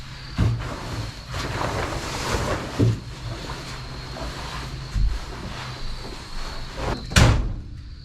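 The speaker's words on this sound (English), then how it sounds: "There's something banging on the latch." Repeated loose knocking and clanking of a sagging door's latch at irregular intervals over steady outdoor background noise, with one sharper bang near the end.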